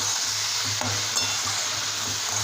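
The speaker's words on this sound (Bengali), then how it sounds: "আবার খানিকক্ষণ টমেটোটা ভাজা ভাজা করে নেব পেঁয়াজের সাথে।" Tomato and onion frying in a pan with Kashmiri chili powder for a rohu fish dish, a steady close sizzle with faint stirring scrapes and no voices.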